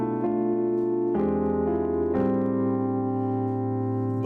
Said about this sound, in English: typical 2-5-1 that would sound like this.